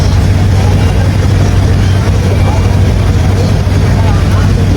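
A boat motor near Samal Island runs loud and close, a steady droning engine hum with a strong low tone and constant wind-like noise, unbroken from start to finish.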